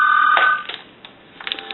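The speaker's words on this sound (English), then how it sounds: "I'm going to let it ring one more time, because 4 rings would be the answering machine" An AT&T 1509 telephone answering machine rings with a short electronic trill, one burst followed by a pause and the start of another, clear and close with no talking.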